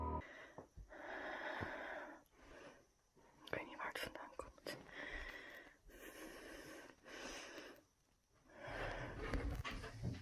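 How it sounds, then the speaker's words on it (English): A woman breathes heavily in a quiet room, ragged airy breaths and whispery exhales coming in uneven bursts close to the listener, with short pauses between them. "The uploader is breathing heavily as she turns to face a strange noise."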